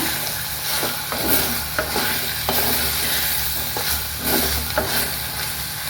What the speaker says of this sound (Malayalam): ഇളക്കി നോക്കാം.